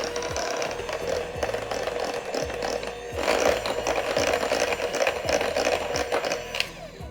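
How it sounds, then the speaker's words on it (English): Pumpkin dessert batter with chocolate chips is whisked by hand in a bowl, making a continuous, fairly loud rhythmic scraping and clatter, close up, with no talk. "I am gonna give this just a little bit more of a whisk."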